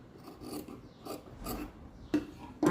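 Scissors cut cloth for a baby blanket with close, soft rasping strokes that repeat about every half second, ending in a couple of sharper snips.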